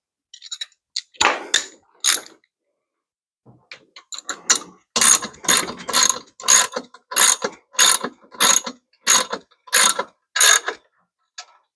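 Close, crisp ratchet clicks from a wrench snugging 9/16 bolts on a 1993 Jeep Wrangler: a few short bursts at first, then a long run of regular, evenly spaced ratcheting strokes with silence between them.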